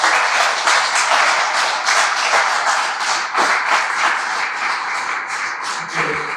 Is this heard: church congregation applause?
yes